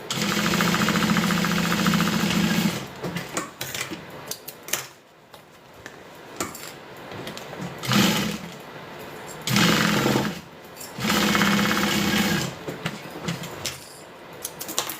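A sewing machine runs in loud bursts, stitching seams on a custom garment, with several stretches of rapid whirring broken by pauses filled with handling clicks and fabric shuffling.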